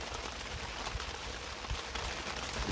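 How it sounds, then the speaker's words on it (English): Heavy rain pours down steadily outdoors during a fishing trip, a dense, even hiss of drops with occasional low thumps, continuous and fairly close with no speech. "as you can hear, the rain is pouring down"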